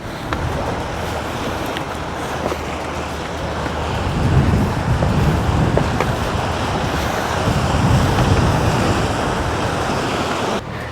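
Waves wash against the rocky shore of Wall Stone Beach (Taħt is-Sur) below the bastion at Mellieħa, Malta, a continuous surf rush mixed with gusty wind noise. The swell builds midway before easing slightly.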